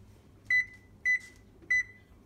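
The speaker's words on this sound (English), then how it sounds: "I'll set my timer." A kitchen timer being set during chili cooking gives three short, evenly spaced electronic beeps, close and clear against a quiet kitchen.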